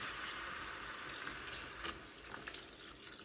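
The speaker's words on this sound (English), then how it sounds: "then I pour in a load of water" Water is poured into a pan of browned curry ingredients in a home kitchen, a steady, soft hissing splash that continues throughout with slight fluctuations.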